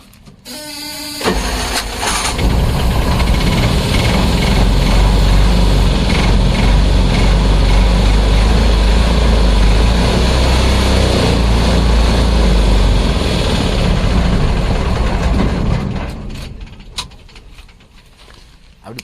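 A 2018 LD container goods carrier's engine cranks and starts, then runs loudly at a steady idle before shutting off near the end.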